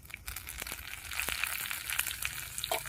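White and black cumin seeds with a bay leaf frying in hot oil produce a faint, close crackle and fine popping, with a few soft crunchy taps and no voices.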